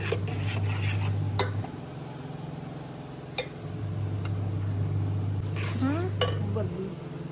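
A spoon scrapes and clinks against a pot with a few sharp knocks as a tempering is stirred into saag greens, over a low steady hum, while voices talk briefly.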